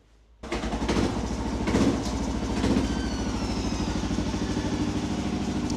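A Kawasaki KLR 650 motorcycle engine, just repaired, catches and settles into a steady, close, chugging idle with an even rhythmic throb that runs on for several seconds, with no one talking.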